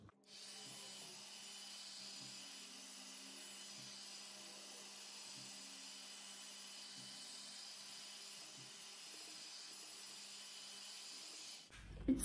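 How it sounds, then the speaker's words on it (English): A heat gun blows steadily and evenly over wet acrylic paint to pop its cells, a constant close airy roar that holds for about twelve seconds before cutting off abruptly. "I'm gonna use my heat gun and pop these cells"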